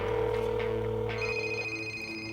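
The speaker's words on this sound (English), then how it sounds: "Let me try and call your cell phone" A cell phone rings from an incoming call, a steady electronic ringtone that swells to a clear, fairly loud tone and holds for a couple of seconds with no talking.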